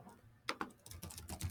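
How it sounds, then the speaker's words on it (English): Faint keystrokes on a computer keyboard while typing into an online form, a few quick soft clicks in a short irregular run, quiet and close with no talking. "and I start typing"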